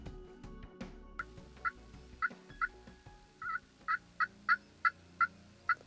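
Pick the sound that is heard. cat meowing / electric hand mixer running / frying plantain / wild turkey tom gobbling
wild turkey tom gobbling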